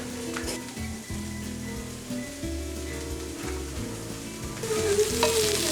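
Tortillas toast in a hot pan with a soft continuous sizzle under a low tonal hum, louder crackle rising toward the end, with no talking.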